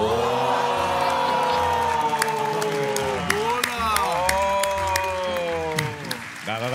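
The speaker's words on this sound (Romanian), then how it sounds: "Aplauze." Studio audience applauds and cheers after a stand-up comedian's jokes on a TV comedy talent show, a dense steady roar of clapping with whoops and a bright tonal jingle running over it.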